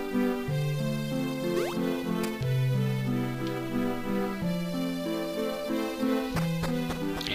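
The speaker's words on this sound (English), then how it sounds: "I think everyone who's played Zelda knows Zelda's lullaby." Zelda's Lullaby from the video game Zelda: Minish Cap, a gentle melodic game theme with sustained tones and sparkling accents, playing steadily at low volume with no talking.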